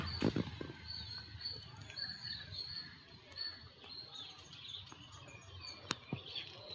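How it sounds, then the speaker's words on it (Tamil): Sparrows and crows calling around a home jasmine garden, with scattered faint chirps and a few sharp caws over quiet background rustle and a couple of knocks. "குருவி சவுண்டு, காக்கா சவுண்டு பாருங்கள், அவ்வளோ அழகாக இருக்குது"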